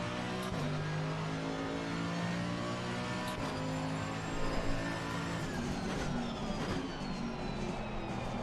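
A GT race car engine in Assetto Corsa Competizione holds a loud, continuous high-revving roar with shifting pitch and brief gear-change breaks, heard alone throughout.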